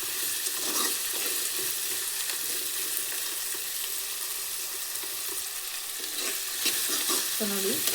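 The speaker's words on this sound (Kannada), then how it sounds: "ಟೊಮೊಟೊ ಕೂಡ ಕಲರ್ ಚೇಂಜ್ ಆಗುವವರೆಗೂ ಸ್ವಲ್ಪ ಅದರಲ್ಲೇ ಫ್ರೈ ಆಗುವವರೆಗೂ ಇದನ್ನು ಮಿಕ್ಸ್ ಮಾಡ್ಕೊಳ್ಳಿ" Tomatoes sizzle and fry in a pan for avarekalu upma while a spoon stirs them, a steady hiss with occasional scraping and stirring clinks throughout, close and alone.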